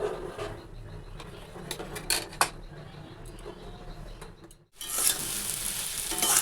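Taro and potato pieces frying and being stirred in a pan, a steady sizzle with scraping stirs, then a brief pause before a louder hiss, close by with no talk.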